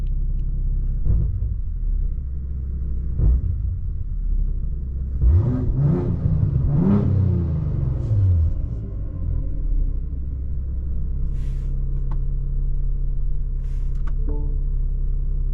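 A car with a catless downpipe and full exhaust idles with a steady deep rumble and faint rattle, swelling briefly in a rev midway before settling back to a constant idle drone, heard from inside without talking.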